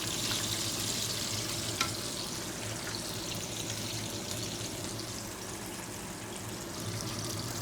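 Steady crackling and sizzling of chicken frying in hot oil, continuous and moderately loud throughout, with no voices.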